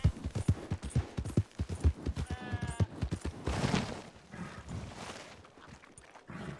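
Horse hooves clop in a rapid, uneven rhythm as a horse is ridden in a western video game, the beats fairly close and loud, later thinning into softer, scattered steps with a brief tonal sound partway through.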